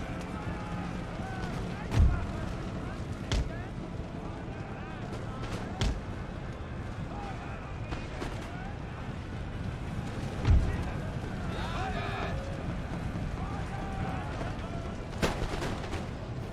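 Distant musket volleys and artillery booms from an Empire: Total War battle thud at scattered intervals over a constant battlefield rumble, with a voice talking over it.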